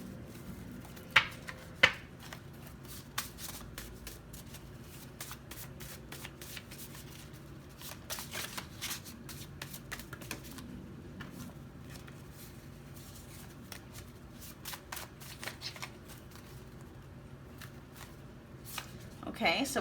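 Tarot cards being shuffled for a pick-a-card reading: soft, irregular riffling and tapping clicks run throughout at close range, with occasional sharper snaps, while a person talks quietly.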